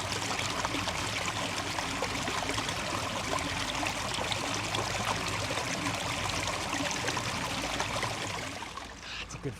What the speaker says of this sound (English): Look at that fresh water from the mountain.